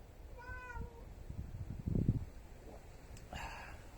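A cat meows a few times close by, with faint handling noises and a rustle in a quiet indoor room in Japan.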